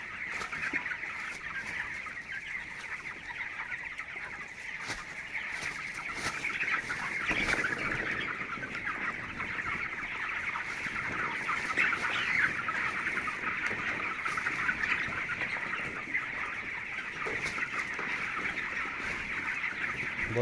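Broiler chickens in a poultry shed during winter keep up a steady, dense chorus of clucking and chirping, with many birds overlapping at a fairly even level throughout.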